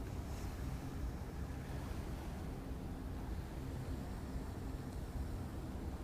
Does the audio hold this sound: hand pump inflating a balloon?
no